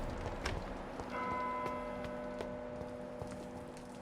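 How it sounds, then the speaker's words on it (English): A bell rings out in the Vampyr video game, with a few spaced metallic strikes and a ringing tone that carries over a low ambient game backdrop. "Who's ringing that bell?"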